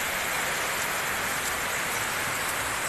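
Heavy rain pours down outdoors, a steady, even roar of rainfall hitting surfaces, continuous and fairly close with no break.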